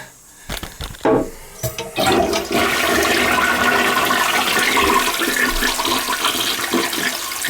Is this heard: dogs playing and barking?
no